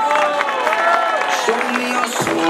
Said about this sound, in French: On applaudit bien fort Clément Venturini.